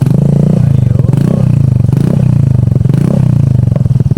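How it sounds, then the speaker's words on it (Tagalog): Yamaha Mio Gravis 125 scooter with a full-system muffler and the silencer removed, revving loud and close in repeated rising and falling pulls with a raspy, rattling exhaust note. "sa mga gustong makarinig ng sound check tayo without silencer"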